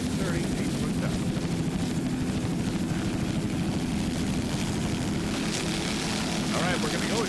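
A 38-foot offshore racing powerboat with twin 700 hp Mercury inboard engines roars in a heavy continuous drone at a 1999 West Palm Beach race, and a commentator talks over the engine noise.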